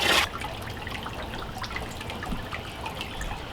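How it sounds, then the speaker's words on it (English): Water from a hose pours into a cheap DIY outdoor fish pond, a steady trickling wash with small splashes and drips at moderate level, after a brief louder burst at the start. "So, all right, turn it on. Okay, here it comes."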